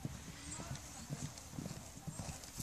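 Pony hooves clip-clop in a steady, quick rhythm on a ridden cross-country session, faint and somewhat distant, with talking around the rider.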